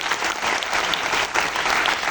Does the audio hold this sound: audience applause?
yes